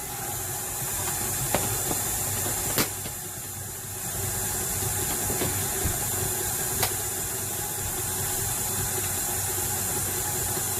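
Butter and granulated white sugar are being creamed together for a vanilla cake batter, making a loud, steady whirring drone with a few sharp clicks and knocks. No one speaks.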